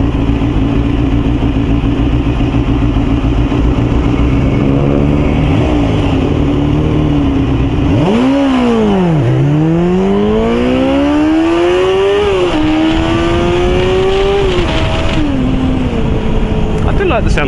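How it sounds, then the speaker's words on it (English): A motorcycle ridden on the road roars close with heavy wind rush, its engine dropping and then climbing through the gears in rising and falling pitch sweeps. "I do like the sound that this bike makes."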